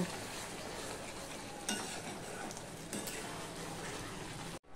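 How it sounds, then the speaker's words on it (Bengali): Chicken being stir-fried on medium-low heat for a Bengali chicken kosha, a steady close sizzle of oil and meat with occasional scraping stirs, continuous and even until it cuts off at the end. "এবার আমি মিডিয়াম টু লোতে দিয়ে দিলাম, দিয়ে আমি বাদবাকিটা কষিয়ে নেব।"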